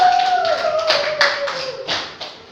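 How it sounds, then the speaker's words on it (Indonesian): A short burst of clapping from a small group of classroom students, fairly close, fading over a couple of seconds. "Beri tepuk tangan untuk kelompok 1"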